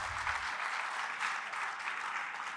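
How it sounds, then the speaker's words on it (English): Applause from the audience at an annual installation and awards reception, a continuous even patter of many hands clapping, fairly faint and steady from start to finish. "That's right, clap."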